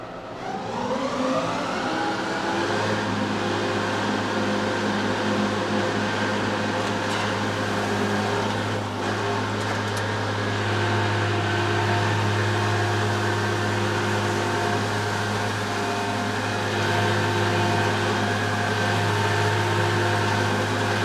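A tractor engine fires up and settles into a steady, loud drone as the PTO drives a grass mower for the first cut, a deep hum joining after a couple of seconds and holding constant.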